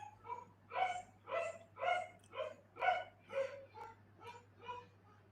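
A dog barks about nine times in a steady rhythm, each bark clear and fairly close, with a faint constant hum underneath and no talking.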